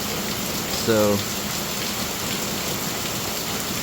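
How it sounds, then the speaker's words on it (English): Heavy rain pours down outdoors in a steady, dense hiss that holds for the whole stretch, with one brief word spoken partway through. "it just started pouring outside."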